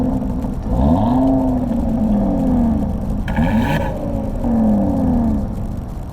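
A 2018 Audi RS3 being driven, its engine note rising and falling through several rev sweeps with a sharp buzzy edge and a brief rasp near the middle, steady and close, with no talking.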